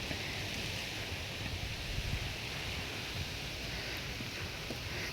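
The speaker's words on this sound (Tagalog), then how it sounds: "Yan oh, malakas ang ulan." Heavy rain driven by strong typhoon wind pours over a farm with a bitter gourd trellis, a dense, steady roar of rainfall and gusts running without a break.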